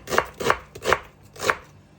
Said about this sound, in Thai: เราก็จะหั่นหอมจ้ะ